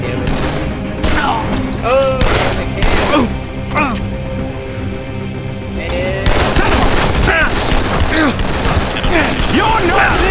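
Gunshots in the zombie game Dead Island punch through a busy scene as scattered loud cracks and thuds, mixed with shouting and creature cries, while a player talks over the action.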